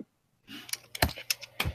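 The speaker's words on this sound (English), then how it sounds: "you're quick with that, typing in those numbers" Quick keystrokes on a computer keyboard as numbers are typed in during exam preparation, a cluster of close, crisp clicks and taps following a brief silence.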